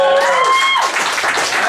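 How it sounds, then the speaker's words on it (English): Applause from a wrestling-show audience fills a short burst, loud and dense, with a brief whistle-like tone near the start and a voice talking over the clapping. "I didn't say clap for me. I don't need your claps."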